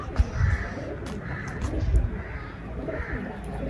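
Pigeons coo in low, rhythmic, throaty murmurs close by, repeating every second or so over a busy background of rustling and flapping.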